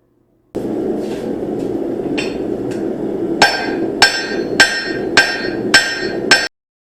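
Hammer work on the horn of an anvil while forging a seax blade: a steady grinding scrape, then about eight sharp ringing metallic strikes in a regular rhythm, close and loud.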